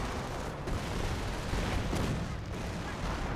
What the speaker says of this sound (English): Here comes a Stuka barrage.